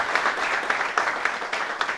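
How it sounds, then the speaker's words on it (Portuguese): Audience at the anniversary party of a folk group in Faial applauding the musicians, a sustained wash of clapping from a crowd with a few louder claps punctuating it, steady and fairly close. "Merecem uma salva de palmas."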